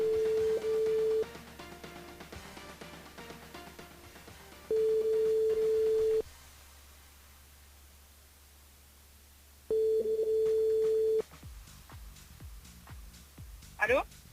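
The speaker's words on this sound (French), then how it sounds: "On appelle Angélique du côté de la montagne." Telephone ringback tone on a live radio phone-in call, steady tone bursts of about a second and a half repeating with quiet gaps, faint line noise between them.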